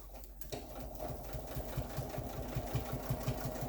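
A Janome Memory Craft 6600 domestic sewing machine stitches a quilt with a quiet, steady, rapid needle patter and a soft motor hum.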